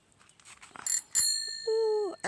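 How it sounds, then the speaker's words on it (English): A cheap bicycle bell bought for a new bike rings out clearly, a quick bright ding followed by a sustained ringing tone that lingers and fades, loud and close. "my favorite part, the bell."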